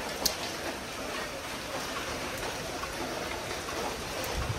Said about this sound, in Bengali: বৃষ্টির ভিতরে আবার রোদও উঠছে,